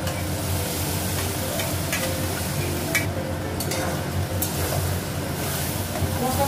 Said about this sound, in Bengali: মশলাটা একটু ভাজবো।